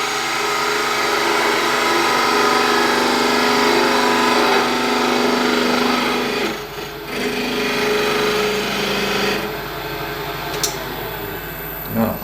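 A skew chisel planes a spinning piece of wood on a lathe, making a continuous close rasping hiss that eases off around the middle and softens further toward the end.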